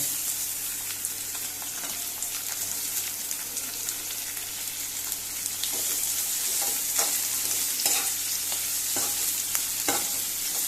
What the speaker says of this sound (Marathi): आता तातूंत न्ही कांदो घालुया.